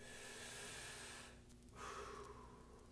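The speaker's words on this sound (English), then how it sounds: "you can also take a nice big breath in" A deep, audible inhale taken while holding a hip flexor stretch, heard close and alone with soft breathy noise and no talking.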